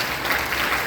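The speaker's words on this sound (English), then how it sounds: "More big round of applause for Roush and Frogzilla." Audience applause at a middle school sixth grade band recognition concert, a dense, continuous patter of many hands clapping at once, full and even through the brief moment.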